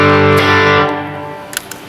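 Electric guitar through a Timmy overdrive pedal set for light gain, a sustained chord ringing out loud and slowly decaying, followed by a couple of faint string taps.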